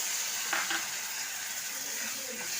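Water poured into hot oil with turmeric and ground coriander-cumin for a fish curry, producing a loud, steady close sizzle that holds for the whole stretch, with faint stirring.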